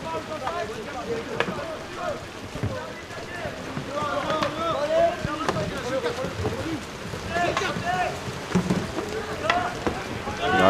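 Steady rain patters outdoors over a canoe polo match on open water, a continuous wash of drops with splashes and paddling sounds mixed in, while voices carry faintly through the scene.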